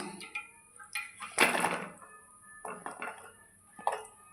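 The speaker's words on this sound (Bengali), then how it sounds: "আমি এখন পটলগুলো ঢেলে দিচ্ছি" Pointed gourds tipped into a metal pot with a little water, a few clattering knocks of vegetables against the pot with one louder tumbling spill in the middle, close and alone without talk.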